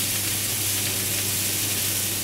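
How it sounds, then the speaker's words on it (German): Wild boar back searing in a hot pan with oil near its smoke point, a steady, close, loud broadband sizzle running continuously without any voices. "Braten das mit allen Seiten schön an."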